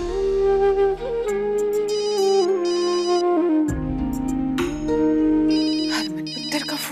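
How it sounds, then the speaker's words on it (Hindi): An incoming call sets off a phone ringtone in a Hindi TV drama scene, a loud electronic melody of stepping tones with chiming accents that plays on without voices. "हरमन पुत्र का फोन इस वक्त?"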